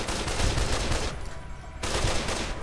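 Gunfire in Fallout: New Vegas, a dense, loud burst of rapid overlapping shots and crackling impacts, briefly thinning out in the middle before resuming with the same heavy intensity.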